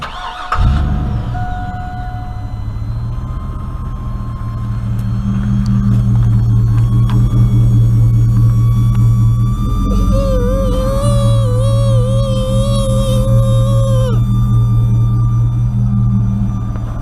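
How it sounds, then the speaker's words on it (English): A Chevrolet truck engine cranks and settles into a loud steady idle, with the whining, wavering tone of a noisy fuel pump rising above it midway, then fading. "I'm gonna let you guys take a listen to this fuel pump"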